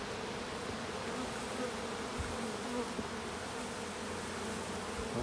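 Honey bees shaken from brood frames into a container buzz continuously in a dense, steady drone, close and fairly quiet, with no talking.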